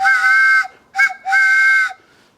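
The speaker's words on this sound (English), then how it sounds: "And the train whistle is always fun." A handmade wooden train whistle blows three chord-like blasts in a long-short-long pattern. The tone is loud, steady and breathy, and it plays alone at close range.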